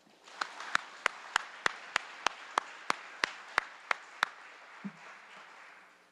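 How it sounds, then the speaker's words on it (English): Slow, evenly spaced claps at a senior honors night, about a dozen sharp single claps from one or a few hands, faint and isolated against a quiet room. "Another round of applause."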